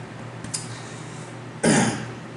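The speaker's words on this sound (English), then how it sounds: "Got a little cough." A single short, harsh cough bursts out near the end, preceded by a faint click, with quiet room tone otherwise.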